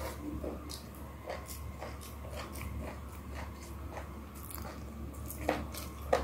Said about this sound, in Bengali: কুড়মুড় কুড়মুড় করে খাবেন।